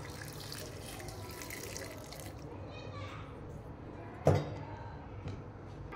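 Water pours into a blender jar holding amla, coriander and coconut for juice, a brief splashing stream near the end of the stretch, after a few seconds of quiet background and light talk.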